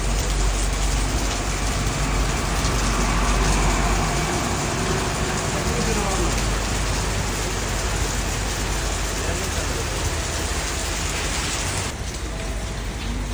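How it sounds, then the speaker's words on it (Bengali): Steady, heavy rain pours down continuously, a dense hiss drumming on surfaces throughout with no break. "হঠাৎ করে আবার বৃষ্টি শুরু হলো"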